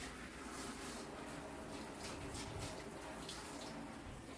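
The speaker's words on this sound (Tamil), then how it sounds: "நான் வந்து தண்ணியை வச்சு எல்லா பக்கமும் நல்லா கழுவி விடுறேன்." Water is splashed around a toilet bowl to rinse it during bathroom cleaning, giving a continuous soft rushing and splashing that stays fairly faint and steady with no talk.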